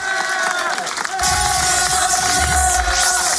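Audience at a live radio event with a singer erupts into applause and cheering, a sudden swell of clapping and crowd noise that starts a second in over a musical background and stays loud to the end.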